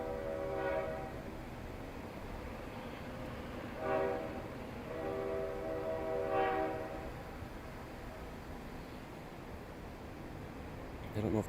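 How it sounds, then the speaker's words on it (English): A train passes in Canada, a CN or CP freight or passenger line, with a steady rumble underneath and three horn blasts sounding at even intervals, moderately distant, over a constant low background. "I don't know if that's a CN train or CP train"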